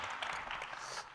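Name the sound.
audience applause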